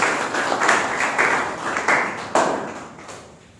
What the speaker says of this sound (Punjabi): ਤਾੜੀਆਂ ਮਾਰੋ ਇਹਦੇ ਲਈ।